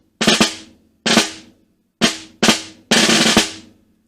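A snare drum plays a slow etude phrase with closed grace notes, five crisp strokes each led by a tight flam, spaced unevenly with short ringing decays, close and alone.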